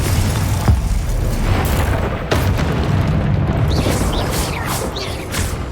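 A Confringo explosive spell goes off in the Hogwarts Legacy video game, with a deep, rumbling boom and layered crackling blasts that roll on through the whole stretch.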